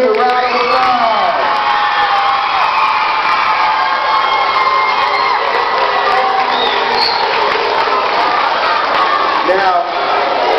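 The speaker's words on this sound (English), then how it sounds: "let's give our Jaguar champions a round of applause" A school crowd roars for its Jaguar champions with loud, sustained cheering, whoops and children's shouts that stay at full level throughout, as an excited mass of voices.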